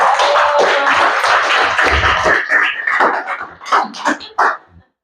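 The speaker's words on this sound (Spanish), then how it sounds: "Un fuerte aplauso por su vida." Applause from a church congregation at a Sunday village gathering, welcoming a sister who is about to share: dense, close clapping that thins into scattered, separate claps before stopping abruptly.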